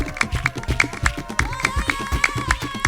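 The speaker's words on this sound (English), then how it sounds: "The clapping pattern is really important." Hand clapping in Baka music: a steady, interlocking pattern of sharp claps repeats quickly over layered drums, with sustained vocal tones running underneath.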